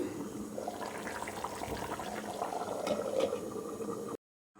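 Chicken simmering in water and oil in a wok, a steady soft bubbling and liquid burble, faint and close, continuing evenly before cutting off abruptly near the end.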